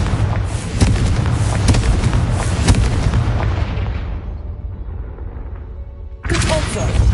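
Confringo fire spell blasts in the video game Hogwarts Legacy, a dense run of booming, crackling explosions layered with a shouting voice, fading out before a fresh loud burst near the end.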